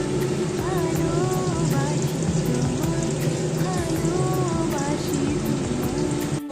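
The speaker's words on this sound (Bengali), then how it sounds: "ভাজা হচ্ছে" Chicken pakora deep-fries in oil with a continuous, dense sizzle. Singing music plays over it throughout, partly masking the frying.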